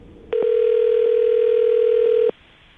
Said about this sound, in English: I'm going to dial this phone over right now, okay?